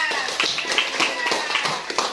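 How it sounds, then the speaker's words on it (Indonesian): A class of students claps in a schoolroom during a teaching-practice lesson, giving brisk, fairly light applause with voices murmuring and calling over it. "Tepuk tangan yang meriah."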